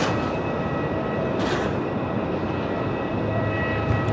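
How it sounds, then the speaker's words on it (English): Qantas flight 691, an airliner bound for Adelaide, rolls down the runway at Melbourne Airport on takeoff, giving a steady, loud broadband jet roar that stays constant throughout, with no voices. "Okay, Qantas 691 now rolling,"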